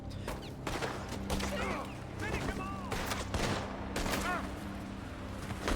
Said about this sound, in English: the others in the camp took notice and started opening fire on Bray